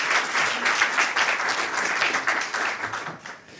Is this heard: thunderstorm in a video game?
no